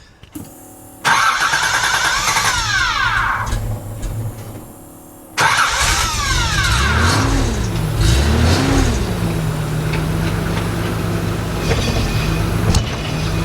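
A hurricane-flooded Nissan 300ZX engine cranks and starts, catches again after a pause, then runs loudly with revs rising and falling as the car is put in gear.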